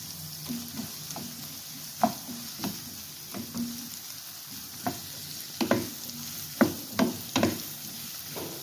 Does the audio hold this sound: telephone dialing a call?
no